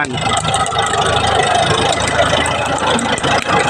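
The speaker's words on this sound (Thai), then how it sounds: "วันนี้พามาชมรถไถกูโบต้า 70 แรงนะครับ" A Kubota M7040 70-horsepower tractor engine runs steadily nearby, a loud, continuous rumbling drone with a rattly mechanical texture and no pauses.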